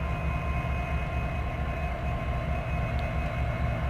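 Trains at the Winnemucca rail depot ramp up to move, giving a steady low diesel rumble with a faint tonal whine, heard from a distance without talk.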